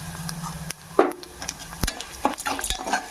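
Coriander seeds and cumin dry-roast in a pan, with quiet scattered rattles and scrapes from a spoon stirring the seeds, plus a few sharper metal clinks, close and fairly soft.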